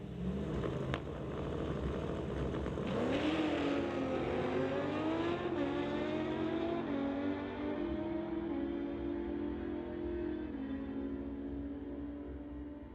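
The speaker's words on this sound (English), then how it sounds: "Green Cuda versus the motorcycle." A green Plymouth Cuda and a motorcycle drag race side by side, engines roaring hard as they launch and climb through the gears, then the sound fades as both pull away down the strip.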